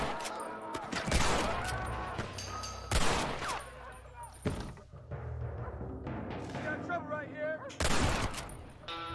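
Gunshots ring out in Red Dead Redemption, several loud sharp blasts scattered through the clip amid a busy in-game fight soundscape, with someone talking between them.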